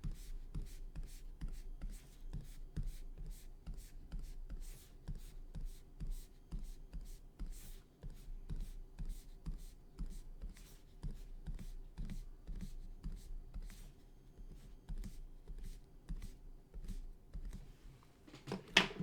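Pen or pencil scratches and taps on paper in quick, irregular strokes, close up and fairly quiet, with occasional soft voice in the background.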